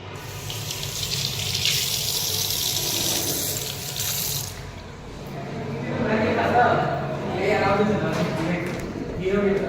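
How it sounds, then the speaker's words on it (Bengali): Water runs from a hotel bathroom tap as hands are washed, a steady rushing stream that shifts in tone as the hands move through it, with speech over it. "হাতটা ধোবো প্রথমে"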